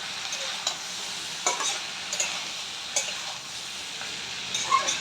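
Pui shak sautéed with fish head sizzles quietly in a pan, broken by several distinct spatula scrapes and taps spaced a second or so apart, close by with no talking.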